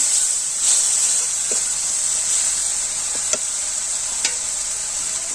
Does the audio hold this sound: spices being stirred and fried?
yes